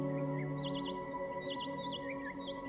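Birds call in a quiet high-altitude mountain village, Castelmezzano, with a few short warbling chirps repeated at intervals over a low steady hum.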